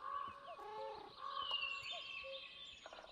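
Chickens cluck and murmur softly in a short, quiet burst of several fowl calls, close by with no talk over them.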